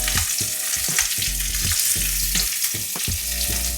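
Onion fries in hot oil with a bay leaf and is stirred, producing a loud, dense sizzle with rhythmic spatula scrapes and low clattering strokes, close up and without voices.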